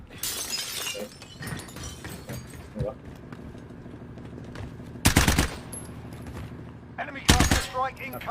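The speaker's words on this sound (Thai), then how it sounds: "เสียงกระจกแตกด้านหน้า" Glass shatters at the front in two loud, sudden crashes. Sharp gunfire-like bursts and people talking surround the crashes.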